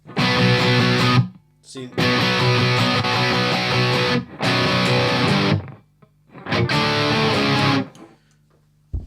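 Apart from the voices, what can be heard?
guitar distortion effect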